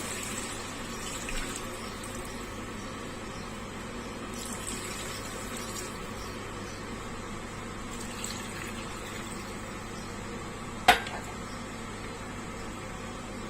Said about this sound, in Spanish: lo tenemos que cubrir de agua.